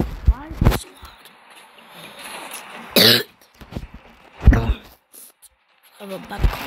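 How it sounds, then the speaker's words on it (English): A person coughs and clears their throat in several sharp, close bursts scattered over a few seconds, with quieter stretches and faint background sound between them. "Have a bad cough."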